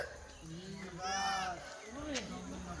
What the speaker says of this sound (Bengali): দেখো কত ছাগল বাবা